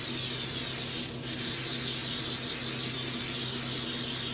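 A spray bottle misting dye onto knitted sock blanks, a continuous loud hissing spray with one brief pause partway through, no voices.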